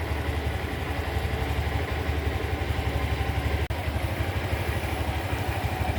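A Honda Beat Street scooter engine idles smoothly and steadily, with a close, even low putter and one brief click partway through.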